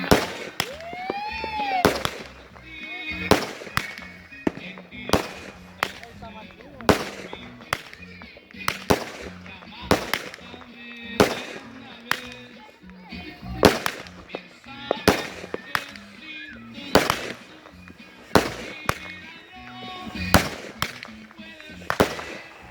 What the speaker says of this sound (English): Divine, Candy Crush, 25 shots. Let's go.